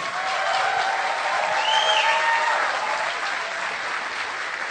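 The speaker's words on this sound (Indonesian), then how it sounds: "Tepuk tangan yang meriah bagi Royal Crown Ambassador Bapak Insinyur Irwansa" An audience breaks into a dense, sustained round of applause, swelling slightly in the middle and staying full to the end, with a faint voice briefly heard over it.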